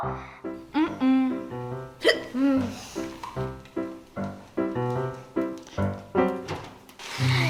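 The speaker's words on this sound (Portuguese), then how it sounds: "Valeu a tentativa, mas meu soluço não passou." Repeated hiccups, a dozen or so sharp voiced catches in quick, uneven succession over several seconds, close and clear with no talk.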